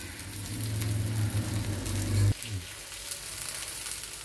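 Pineapple pieces fry in a pan with a continuous close sizzle and a low hum. The sizzle cuts off abruptly about halfway through, leaving quieter, faint background sound.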